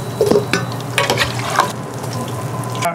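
Chicken wings coated in berbere fry in hot oil and get tossed in a pan, a loud close sizzle with a few clattering tosses and scrapes over about three seconds.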